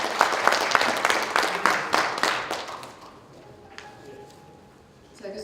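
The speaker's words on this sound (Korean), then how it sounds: "다시 한번 큰 박수 부탁드릴게요." An audience at a conference on cooperative partnerships claps briskly for a professor coming on stage; the applause fades away after about three seconds, leaving a quiet room.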